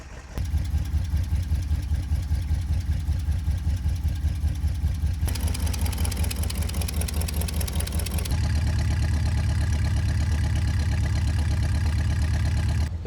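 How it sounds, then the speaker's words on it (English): A 1972 International Cargostar truck engine idles, smoking but running smoothly, with a steady low rhythmic chug that holds throughout and shifts slightly in tone partway through. "It's idling pretty smooth also."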